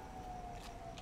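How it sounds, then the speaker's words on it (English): Sirens in the video game Red Dead Redemption 2 sound as a faint, steady distant wail under a low rumble of ambient noise. "There's like 50 million sirens out there."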